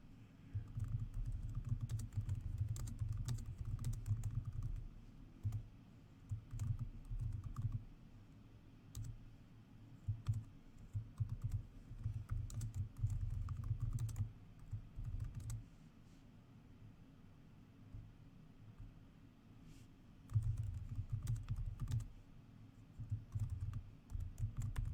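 Typing on a computer keyboard while building a checklist of tasks, quick bursts of soft key clicks broken by short pauses, close and alone with no voices.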